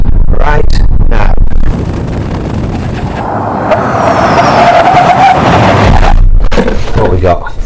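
A heavy Hyundai Ioniq 9 brakes hard from 60 mph on a dry test surface, the loud tyre and road roar swelling into a steady scrubbing hiss for several seconds, with a voice talking over the start and end.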